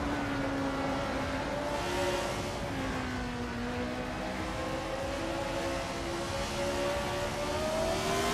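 Field of race cars at Lime Rock Park, including a 1976 Shadow DN5B on pole, pulls away from the start with steady engine drone and rising pitch, a continuous dense roar without talk.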